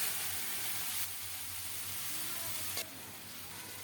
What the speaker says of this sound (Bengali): সুন্দর মতো ভাজা হয়েছে এখন শাক দিয়ে দিলাম